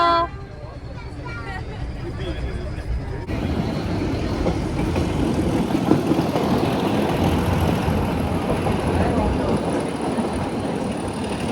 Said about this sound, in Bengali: এবার আমাদের ট্রেন স্টার্ট দিয়ে দেবে